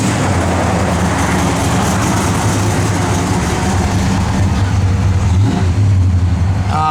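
A 1970 Plymouth Duster's 340 V8 runs steadily up close, a loud, continuous low rumble with a slight rise in revs toward the end and no talking.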